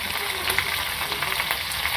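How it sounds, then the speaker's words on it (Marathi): Mustard seeds, cumin and chopped green chillies crackling in hot oil, a dense continuous sizzle scattered with quick pops, close and steady, with no speech. "हे बघा, आता चांगलं तडतडलं आहे ते।"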